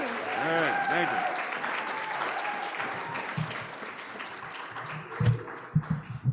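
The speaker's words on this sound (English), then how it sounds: "Let's give one more cheer for our Paralympic athletes." A convention audience applauds and cheers for Paralympic athletes, a dense burst of clapping and shouts that thins out over several seconds, with a voice speaking over it and a few handling thumps near the end.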